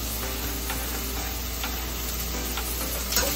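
Chopped vegetables and green onions fry in a pan for egg fried rice, giving a soft, even sizzle throughout with a few light clicks of a utensil.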